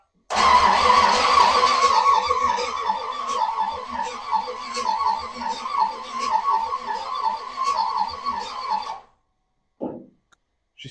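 A 1963 Chevrolet Impala left sitting over 18 years cranks over for about nine seconds, a loud, steady, rapid whirring chug from the starter that then stops, followed by a brief faint noise.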